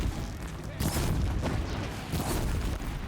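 In the video game Horizon Zero Dawn, fire is shot at a machine, producing loud, booming bursts of gunfire-like blasts over a dense, rumbling background, with two stronger impacts about a second and a half apart.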